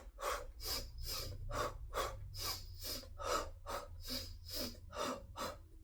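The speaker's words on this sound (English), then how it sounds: "I do a certain breathing technique where it's in, out, out." A runner demonstrates an in-out-out breathing pattern, producing close, rhythmic, audible breaths about twice per second, a sharp inhale followed by two quick exhales, repeated steadily with no speech.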